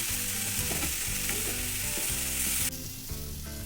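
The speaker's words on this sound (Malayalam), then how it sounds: "ചെറുതായിട്ടൊന്ന് ഓയിൽ ഒഴിച്ചിട്ട് ഇതേപോലെ ഒന്ന് ചെറുതായിട്ട് പൊരിച്ചെടുക്കണം" Chicken pieces shallow-fry in a little oil for an Afghani chicken curry, giving a steady close sizzle with soft bubbling crackle and occasional clinks of stirring. No one speaks.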